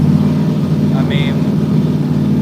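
A car engine idles steadily at about 2100 RPM with the air pump and all accessories switched on, a constant mid-range hum with a brief higher whine partway through.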